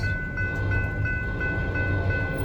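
A Norfolk Southern freight train rolling past, a loud continuous rumble with steady tonal squeal and periodic wheel thumps, close by and alone.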